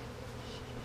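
A steady, dense buzzing of many honey bees at an open hive, close and continuous, filling the whole moment without pause or voices.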